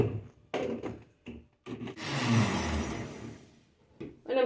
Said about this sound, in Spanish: Vamos a moler esto.